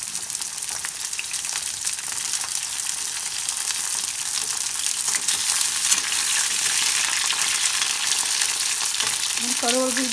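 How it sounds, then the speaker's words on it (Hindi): Pointed gourd frying in hot oil in an iron wok, a loud continuous sizzle with crackling spatter heard up close, steady throughout, with a faint clink of a utensil near the end and no talking. "एतऽ हम लोहिया चढ़ा देलहुँ हँ, तेल गरम हो गेल हँ। एहिमे हम पहले परोड़ भूजि कऽ निकालि लेबै।"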